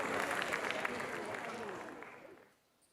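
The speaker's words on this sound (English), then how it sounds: "A big round of applause for Professor Krishna Sen," Applause from an audience at an ISWA Naari 2020 event honouring a guest speaker, a dense wash of clapping that stays steady, then fades out near the end.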